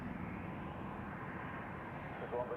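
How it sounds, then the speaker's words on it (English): An Airbus A321, recently de-iced, taxiing to runway 28 at Zurich Airport for departure to Rome, a steady low engine rumble held at moderate distance under outdoor wind noise, with talk heard over it. "the A321, which has been de-iced recently, taxiing there to runway 28 for departure to Rome"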